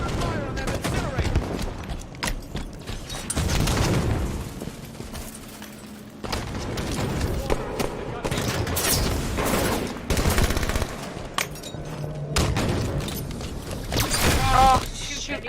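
Repeated weapon fire bursts from an incinerator cannon in the Halo 5 video game, loud and dense, mixed with other gunfire and game effects while players talk over it.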